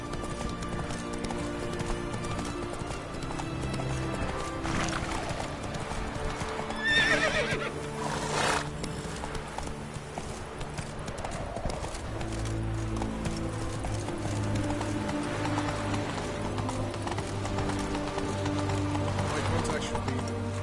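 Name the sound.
horse Roach galloping and neighing, from a video game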